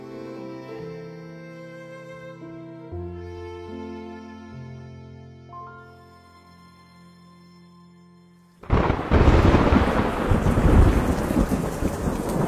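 A storm sound effect for a radio drama: after a slow, gentle musical passage, heavy rain and rumbling thunder break in suddenly, loud and dense, and keep going until the end.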